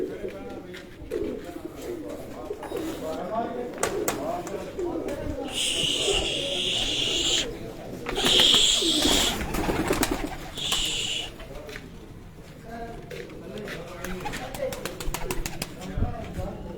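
Breeder pigeons let out of their loft for a flight display, with cooing and bird calls plus brief bursts of wing flapping, mixed with people talking nearby throughout.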